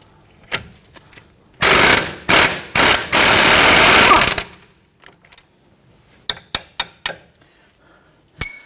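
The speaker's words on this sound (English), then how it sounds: "I'm just going to tap that back." A hammer tapping a strut bolt on the steering knuckle of a 2011-2015 Kia Sorento. A loud burst of rapid, harsh metallic hits comes first, followed later by a handful of crisp, separate taps, close up with no talking.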